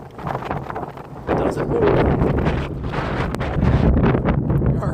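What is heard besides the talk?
wind blowing in a snow storm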